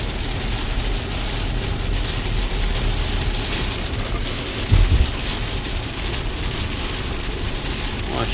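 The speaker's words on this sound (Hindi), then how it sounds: "और इधर माशाल्लाह बारिश देखें।" Steady, dense rain falls on a wet road in Madinah, a continuous hiss with a brief low thump near the middle.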